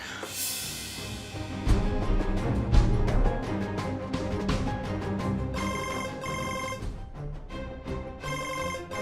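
A phone's video call ringtone plays in repeated electronic bursts in the latter half, following a stretch of busy background sound; no one speaks.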